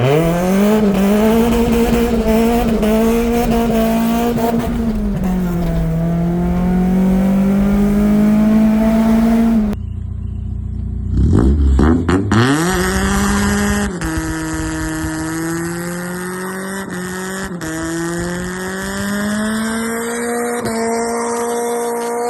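A Mazda Miata with an overly loud exhaust and no proper muffler drives past, its engine droning and rising through gears, then accelerating hard with a raspy, booming roar and shifts close by.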